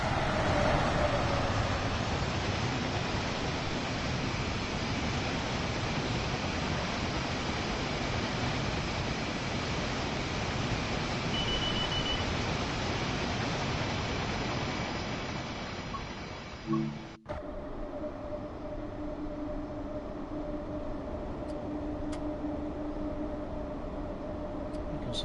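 A BR Class 90 electric locomotive hauling a short freight train in Train Sim World 6 runs by at speed, a loud steady rushing roar that cuts off abruptly, leaving a quieter hum with faint tones afterward.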